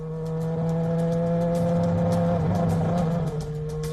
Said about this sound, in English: He hit the gas pedal in a Formula One car to test it under icy, slippery conditions